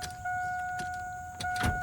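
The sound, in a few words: truck engine running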